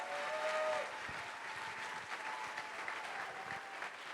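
Lecture-hall audience applauding steadily, a dense wash of clapping at moderate volume that holds evenly throughout with no voices over it.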